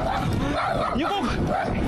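A dog barks and yips close by in short bursts, mixed with voices talking in the background.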